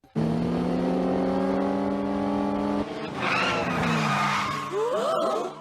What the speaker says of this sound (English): Oh, a car. Look, it's flipping.